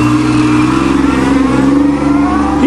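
Pontiac Fiero V6 car pulling away in first gear, a loud, close, steady engine drone with a slowly rising rev and no voices over it.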